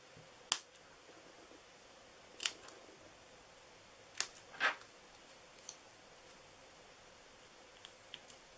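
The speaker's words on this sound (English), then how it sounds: "I think I got something on my scissors here. They don't want to cut very well." Quiet, isolated snips of scissors cutting paper, four or five crisp cuts spaced a couple of seconds apart, the blades sticking slightly, followed by faint small clicks in a still room.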